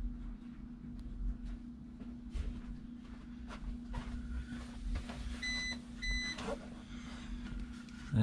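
An uninterruptible power supply for home internet equipment emits two short pairs of high electronic beeps over a steady hum and faint background clatter.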